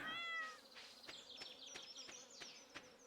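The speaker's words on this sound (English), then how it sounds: "Pet the kitty." A pet cat meows briefly in the Stardew Valley video game, one short tonal call at the start, followed by soft buzzing insect-like ambience with faint clicks.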